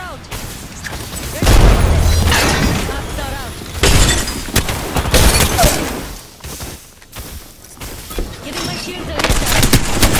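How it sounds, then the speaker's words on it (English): Grenade blast amid a firefight in the battle-royale shooter Apex Legends: loud booming bursts and crackling gunfire, with several heavy low impacts close by and players talking over the chaos. "Grenade, watch it."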